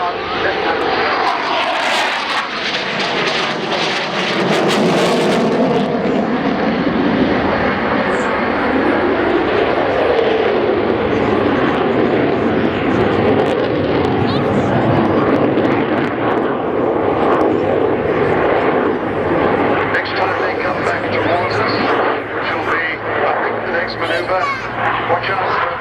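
Two vintage warplanes, one a Spitfire, pulling into a hard left-hand turn at the Cosford airshow, with a steady loud propeller engine drone throughout under continuous commentary over the public address.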